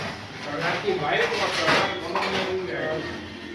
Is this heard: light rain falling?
no